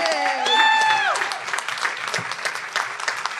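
An audience at a Democratic State Committee meeting claps and cheers in a dense, steady burst of applause, while a voice rises in an excited cry over it at the start.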